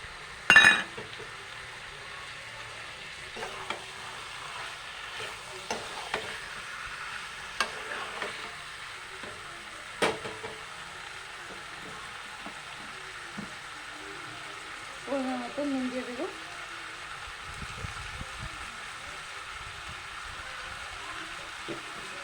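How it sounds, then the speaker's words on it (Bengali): A spoon stirs chicken curry with ground fried-onion paste in a pan, giving occasional scrapes and clinks over a low sizzle, with quiet gaps between the strokes and no talking. "ভালোভাবে নাড়াচাড়া করব"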